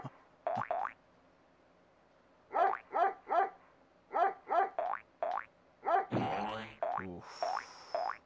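Cartoonish dogs bark in the 1997 Frogger video game. Short yappy barks come in quick clusters of two and three over a quiet background, and a springy boing effect and other game sounds close the sequence.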